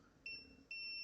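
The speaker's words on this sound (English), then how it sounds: "I'm gonna check that indeed I have a beep between minus and the pins" A multimeter's continuity beeper sounds twice, a clear high tone starting briefly then holding steady, while probes touch the minus terminal and pins of a Rush Blade 60A FPV ESC on a quiet workbench.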